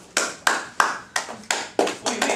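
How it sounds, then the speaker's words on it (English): An audience claps in about seven sharp, separate claps with a loosely steady rhythm, close and fairly loud, with no voices. "Wait, you gotta wait till he plays before you clap."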